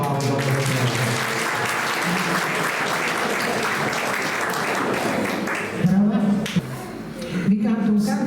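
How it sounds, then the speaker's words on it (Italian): An audience claps in steady, dense applause at a live gathering, lasting most of the clip before tapering as a voice begins speaking near the end. "Un applauso."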